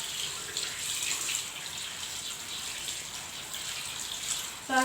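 Tap water runs steadily at a sink as hands are rinsed, a broad continuous hiss close to the microphone, with a brief louder splash right at the end.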